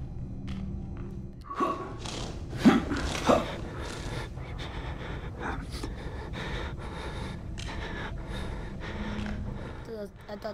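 Heavy, ragged breathing and gasps from the player character in the Outlast Whistleblower horror game, close and continuous, with a few sharper gasping peaks over a dull background rumble and thuds.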